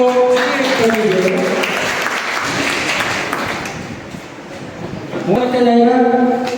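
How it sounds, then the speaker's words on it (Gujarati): Audience applause at a local political gathering about a municipal ward, a dense clapping wash lasting several seconds between stretches of someone speaking. "ભાઈ તાળીઓ કરી દો"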